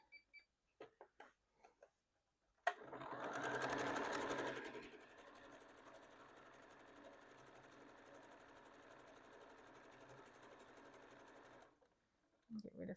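Sewing machine zigzag stitching fabric for a Tula Pink pencil case, running steadily for about nine seconds after a louder start, up close with a fast mechanical whir, surrounded by a few quiet handling clicks.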